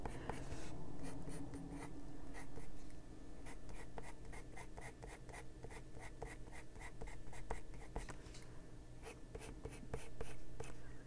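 Colored pencils or pen pastels scratch across paper in adult coloring, a dense run of quick, rhythmic strokes that keeps going steadily and close with no talking.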